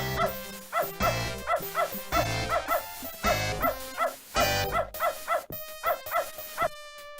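A dog barks in the point-and-click game Beneath a Steel Sky, giving a rapid run of loud, close, evenly spaced barks and yips in quick bursts.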